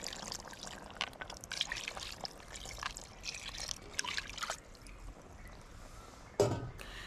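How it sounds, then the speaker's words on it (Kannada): Water swirled with leftover masala is poured from a vessel into a pot of Kundapura country-chicken curry, a faint trickling splash with a soft thump near the end. "ಅದೇ ಪಾತ್ರೆಗೆ ಸ್ವಲ್ಪ ನೀರು ಹಾಕಿ ಆ ನೀರನ್ನು ಕೂಡ ಹಾಕಿಬಿಡಿ."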